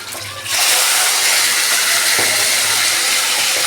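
Bay leaf, dried chilli and five-spice hit hot fish oil in a pan and burst into a loud, steady sizzle that holds without a break after a short quieter start.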